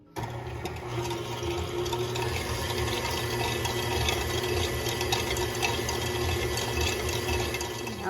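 An electric mixer runs continuously at close range, churning warm water, salt and oil for bread dough with a steady motor whir and sloshing liquid.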